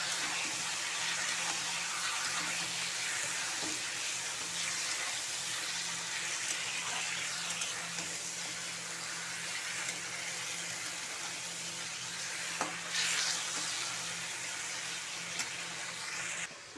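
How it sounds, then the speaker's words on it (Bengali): Chicken meat frying in oil, a steady, even hiss that runs throughout with no pauses and no voices. "মাংসটাকে ভেজে নিচ্ছি।"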